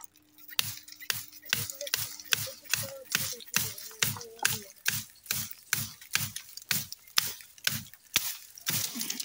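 Branches are cut off a flowering plant with a regular series of sharp snips, close and fairly crisp, about two per second over a quiet background.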